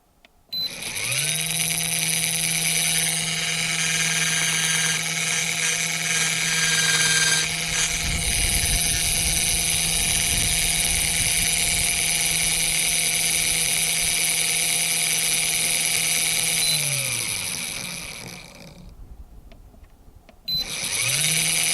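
A small 12-volt RV slide-out gear motor, tested outside the camper, whirs loudly and steadily with a high whine, running for many seconds, winding down, then briefly starting again.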